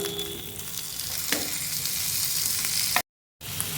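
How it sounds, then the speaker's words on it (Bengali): Diced tomatoes go into onions already frying in a pan for an egg do-pyaza, giving a steady close sizzle with a brief stirring clatter and a short silent gap near the end. "পেঁয়াজের পাপড়িগুলো মোটামুটি ভাজা হয়ে গেছে, এবার এতে দেবো কেটে রাখা টমেটো।"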